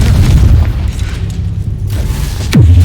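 Confringo fire spell blast in the Hogwarts Legacy video game, a loud deep boom that rumbles and fades, followed by a sharp whooshing impact near the end.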